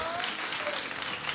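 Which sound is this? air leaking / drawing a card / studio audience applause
studio audience applause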